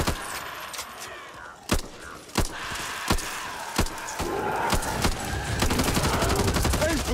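Gunfire in a survival co-op shooter game on Survivor difficulty: sharp single shots at irregular intervals, then denser rapid bursts toward the end, mixed with game sound effects.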